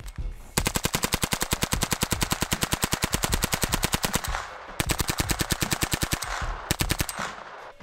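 A Bizon submachine gun fires long, rapid bursts, loud and close, with a brief pause between the strings of shots.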